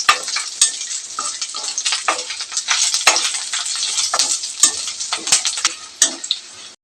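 Garlic fries in a pan for a village-style coconut chutney, a close crackling sizzle punctuated by sharp clicks and scrapes of a spoon stirring, with no talking.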